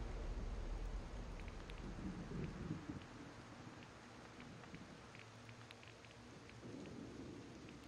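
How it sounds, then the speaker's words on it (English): Rain patters steadily in the Disney Dreamlight Valley video game. The hiss is soft and continuous, with faint drop sounds scattered throughout. "Ooh, it's raining."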